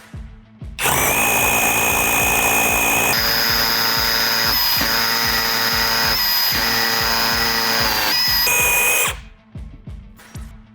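A loud, close Procraft cordless rotary hammer drills a hole steadily for about eight seconds with rapid hammering pulses, then stops abruptly and leaves quiet.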